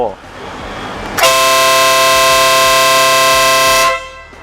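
A loud, steady Italian-made Marco Tornado car horn blares continuously for nearly three seconds, with a rich buzzing tone, after a brief stretch of background noise.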